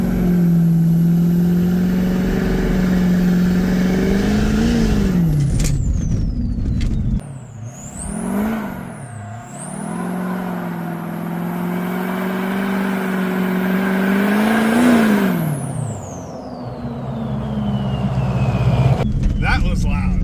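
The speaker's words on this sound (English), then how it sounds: "we're just gonna like kind of drive around, rev bomb it, do like a little pull" A Ford 6.0 Powerstroke diesel truck revs hard and accelerates with loud, rising and falling engine roars, a sharp drop mid-run, then climbing again up close; no one talks over it.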